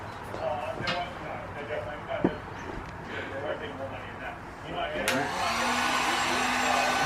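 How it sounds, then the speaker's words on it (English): A cheap Harbor Freight heat gun blows with a steady whooshing hum that rises toward the end, while a person talks over it and a few knocks sound nearby. "little cheap heat gun from Harbor Freight"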